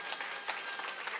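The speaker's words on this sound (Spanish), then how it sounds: "un aplauso a la mexicana" Audience applause at a clinical medical conference, a short burst of many hands clapping together, dense and fairly loud with slight pulses, no talk over it.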